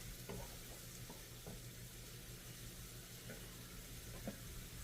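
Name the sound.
sausage sauteing in a pan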